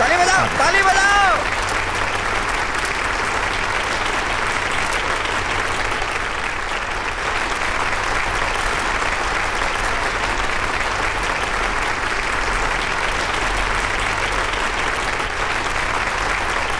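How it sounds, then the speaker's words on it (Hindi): Sustained crowd applause in a Hindi dubbed Telugu film, a dense steady wash of clapping lasting over fifteen seconds after a brief voice at the start. "ताली बजाओ, ताली बजाओ"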